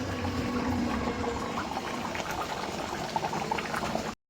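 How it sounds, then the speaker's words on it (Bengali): Reshmi chicken masala simmers after hot water is added, a dense, close bubbling boil that runs evenly for about four seconds and then cuts off abruptly. "এবার একটু গরম জল দিয়ে আর একটু ফুটিয়ে নেব।"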